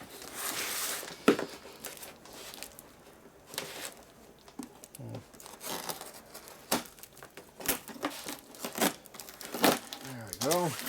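A knife slices through packaging around eBay Harley big twin connecting rods, with crinkling plastic, tearing and sharp rustling bursts up close, mixed with occasional talk.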